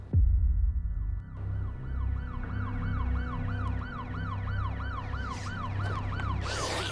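A police siren wails in repeated rising and falling cycles, fairly faint and distant at first and growing a little stronger over a low vehicle rumble, with no talk.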